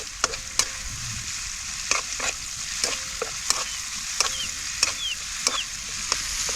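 Onion sautéing in a pan at an outdoor field cookout gives a soft continuous sizzle, punctuated by regular sharp clicks of a spoon scraping and stirring, with no talking.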